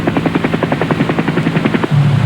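Military helicopter in flight, a loud fast rhythmic rotor thump over a steady turbine drone, continuous and close, with no talk.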